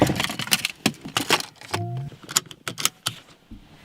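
Car keys jangle in short metallic bursts near a Rivian electric vehicle, close and bright, with a brief mechanical hum partway through and no talking.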